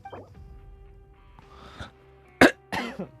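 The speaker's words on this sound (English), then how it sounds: "Didn't mean to cough right into the mic." A single sharp cough right up close to the microphone, loud and abrupt, followed by a second rougher burst of breathy coughing.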